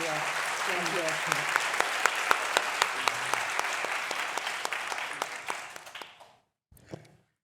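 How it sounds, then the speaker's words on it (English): A hall audience applauds a speaker at a talk on race, with dense, steady clapping and sharper near claps on top. It tapers off around six seconds, then brief murmuring follows. "I think a round of applause again for Beverly would get the"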